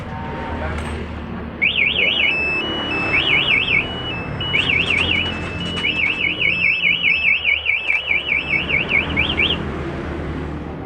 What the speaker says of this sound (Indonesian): Sekarang aktifin alarm, coba dibobol ya.